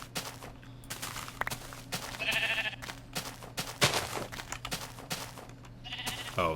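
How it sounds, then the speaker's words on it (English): Sheep bleating in a Minecraft-style block game, a few short bleats standing out over a busy background of clicks and game sounds. "Oh, it's the sheep"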